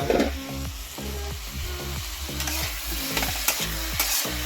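Potatoes being stir-fried in a pan, with a loud, close sizzle and repeated rhythmic scraping strokes of a spatula throughout, no talking.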